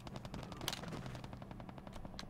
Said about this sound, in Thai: มีเสียงปืนยิงกันอยู่นะครับ